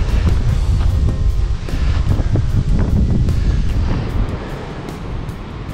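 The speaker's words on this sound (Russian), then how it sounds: "Шум прибоя слышен." Sea surf breaks along a cold, windy Burgas shore in early September, a constant broad roar of waves mixed with heavy wind buffeting the microphone.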